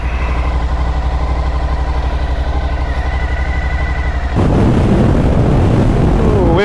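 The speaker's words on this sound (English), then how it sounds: "a familiar throb from that 90-degree V-twin" A 2023 Suzuki V-Strom 1050 motorcycle's 90-degree V-twin engine throbs with an even, steady idle-like pulse, then swells abruptly into a louder, rougher roar as the throttle opens, close to the microphone.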